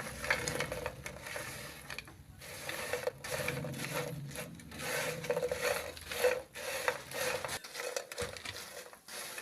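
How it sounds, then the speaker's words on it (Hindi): Spiced potatoes with masala frying in a pan on a low flame, a steady scraping and rasping of stirring with repeated short strokes, close and fairly soft, no talking. "अब इसको लो आंच पे 1 मिनट के लिए फ्राई कर लेंगे।"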